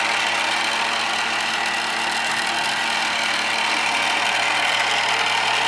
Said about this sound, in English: Got a brand new Baldor motor on it.